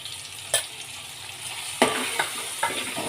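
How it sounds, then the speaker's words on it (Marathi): Garam masala and red chilli powder frying in hot tempering oil for a spicy prawn curry, a steady sizzle broken by a few distinct scrapes of the stirring spoon. "आता हे व्यवस्थित मसाले परतून घ्यायचे आहेत फोडणीमध्ये"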